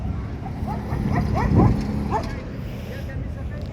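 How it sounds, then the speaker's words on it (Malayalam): A pack of dogs nearby, heard as several short yips and barks rising and falling over steady background noise, with a louder cluster partway through. "ഒരു പറ്റം പട്ടിയുണ്ട്"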